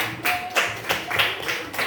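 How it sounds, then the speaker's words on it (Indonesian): Students in a classroom clapping in unison for a group, a series of rhythmic, evenly spaced claps in short bursts at close range. "Tepuk tangan untuk kelompok 2"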